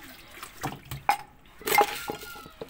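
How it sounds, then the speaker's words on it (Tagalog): Water splashing into a cooking pot holding milkfish with bitter melon and eggplant for paksiw, in brief pours and drips mixed with clinks of metal cookware. "Ayan, lagyan ko naman po ng tubig."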